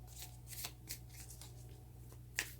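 Tarot cards being shuffled by hand, a soft papery riffling with a few crisp bursts and a sharper flick near the end, close and steady over a low background hum.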